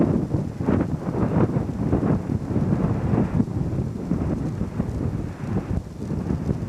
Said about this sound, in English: A lot of breeze blowing.